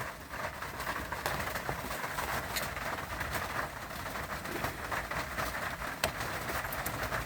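Steady rain falling outdoors, a continuous broadband hiss that stays even and fairly loud throughout, with occasional sharper patters and distant bird calls mixed in.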